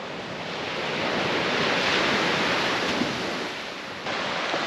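Waves wash continuously onto a beach on a small Bahamas island, a full, rolling surf roar with gusts of wind buffeting the microphone.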